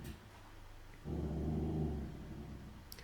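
A dog gives a low, rumbling growl lasting about a second, close by and fairly quiet, with no talking.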